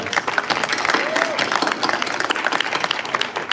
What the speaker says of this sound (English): One more round of applause to our arts.